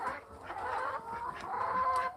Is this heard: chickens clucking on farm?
yes